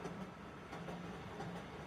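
A train runs on rails as a stage sound effect in a solo play, a faint, steady rumble with soft rhythmic clicks, heard alone without talk.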